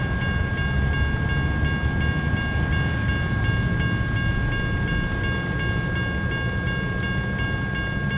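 A train horn sounds in American Truck Simulator, holding steady sustained tones throughout over the continuous low rumble of a passing train at a broken railroad crossing, loud and without speech.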